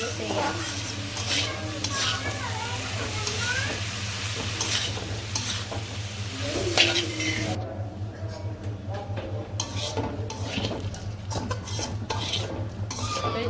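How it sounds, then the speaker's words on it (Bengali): Vegetables with sweet gourd stir-fry in a pan, a continuous close sizzle broken by repeated spatula scrapes and clinks against the metal, with a low steady hum underneath. "আমার সবজি কিন্তু ভালোভাবে যে ভাজা ভাজা হয়ে গেছে"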